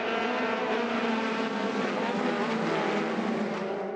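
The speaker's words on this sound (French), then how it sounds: "c'est parti, très bon départ de Vidas" A pack of Formula 4 race cars launching at the start of a French championship race makes a dense, steady, blended engine roar that fills the whole moment without pause.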